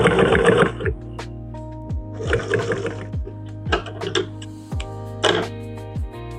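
Manual sewing machine stitching through doubled leather, a close mechanical thumping and whirring in repeated short runs with pauses between them.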